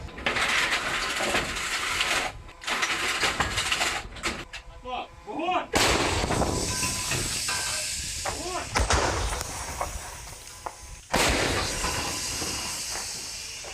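Heavy howitzer fire, a Ukrainian Gvozdika self-propelled howitzer, booms out in several loud blasts, with hissing and mechanical clatter between shots and some voices in the background.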